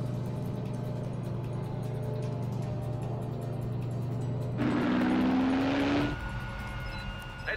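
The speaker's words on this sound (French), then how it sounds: "Un avion s'approche de vous à Grande vitesse" Jet fighter closing in at high speed during an aerial pursuit, a steady engine drone that swells into a loud rising whoosh as it passes close, then eases off.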